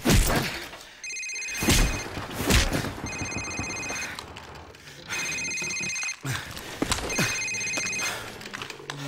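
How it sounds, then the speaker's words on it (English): A cell phone rings in the Safehouse mission of Call of Duty 4: Modern Warfare, sounding four times in evenly spaced bursts over dull thuds and background game noise. "it's his cell phone"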